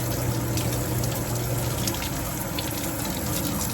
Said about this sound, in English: I'm going to clean my nails under the water